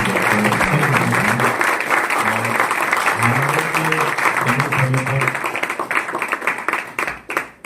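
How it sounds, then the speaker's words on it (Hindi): Loud, sustained audience applause for a doctor at an acupuncture addiction-treatment session, dense clapping with a voice speaking over it, fading out toward the end. "तो डॉक्टर साहब के लिए जोरदार ताली बजाएंगे"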